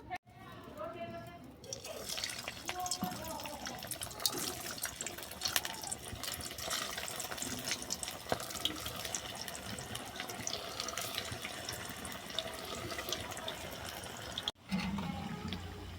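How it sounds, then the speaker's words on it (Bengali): Rice tikkis made from leftover rice fry in oil with a steady, close sizzle that runs almost unbroken, while a person talks over it. "এবার এগুলোকে আমি তেলে ভেজে নেব।"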